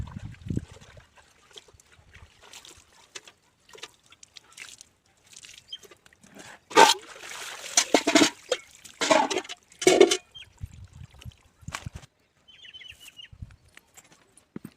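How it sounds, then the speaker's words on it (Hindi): Washed clothes being rinsed in clean water and wrung out at a village home, with close, uneven bursts of splashing, sloshing and dripping separated by quiet pauses. "साफ़ पानी में बोर करके निकाल दूँगी और गार कर निचोड़ दूँगी पानी"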